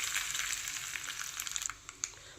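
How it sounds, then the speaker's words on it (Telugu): Mustard seeds, dried red chilli and curry leaves fry in hot oil with a steady bright sizzle and a few sharp pops near the end, close and fairly quiet, no talking. "మన ఎండుమిరపకాయ, ఆవాలు, కరివేపాకు కూడా బాగా వేగిపోయింది కదా."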